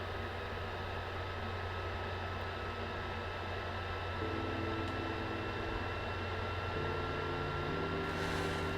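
A PlayStation 4 console fan running Red Dead Redemption 2 makes a steady, loud whirring drone with a constant hum underneath, shifting slightly in pitch partway through, with no voices.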